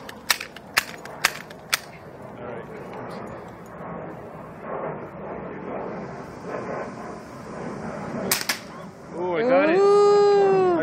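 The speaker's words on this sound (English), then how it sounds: "Yeah, I shot it right on the bottom" Pumpmaster air rifle fires at cans 50 feet away, several sharp snapping shots early on and another pair later, with people talking outdoors between them.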